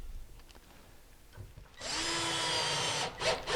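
After a quiet moment with small handling noises, a power drill drives No. 6 flathead 5/8-inch screws through hinges into a cabinet door, a loud close whine holding steady for over a second before short bursts finish the screw.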